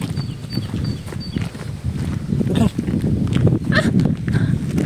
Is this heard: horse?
yes